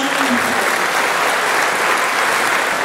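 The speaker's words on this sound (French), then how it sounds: "Une tonne d'applaudissements pour Radio Flotteur FM, s'il vous plaît, messieurs." Audience applause at a comedy show, a dense, steady wash of clapping from a crowd that fills the whole stretch at close, loud level, with no pause or voice cutting through.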